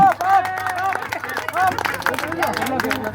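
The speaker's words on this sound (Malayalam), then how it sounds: "എല്ലാവരും കൈയടിക്കുക." Audience applause at a water-drinking contest held by a local library, a dense crowd clapping under lively chatter and background music throughout.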